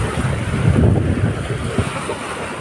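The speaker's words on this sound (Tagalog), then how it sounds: "Medyo mahangin." Strong wind buffeting at Manila Bay's Dolomite Beach, a loud low rumble gusting continuously across the microphone, with a faint wash of water beneath and no voices.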